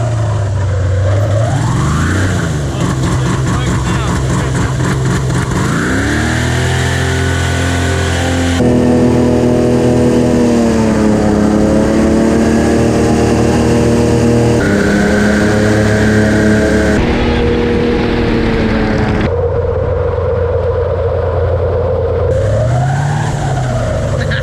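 An airboat's aluminium Chevy LS2 V8 of about 650 horsepower roars loud and close without a break, rising and falling through repeated revs and throttle swells.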